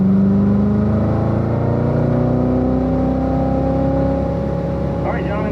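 A car accelerating hard in fourth gear at Spring Mountain Motorsports Park race track, with a loud, steady engine drone rising in pitch, heard close from inside the car for several seconds.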